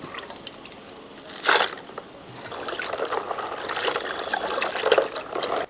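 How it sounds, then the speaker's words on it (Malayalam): Crab pieces for a crab curry are rinsed in water, with a steady trickle and splashing, a couple of louder sloshes and dripping close by. "അപ്പം നല്ല വൃത്തിയായിട്ട് കഴുകിയെടുക്കട്ടെ"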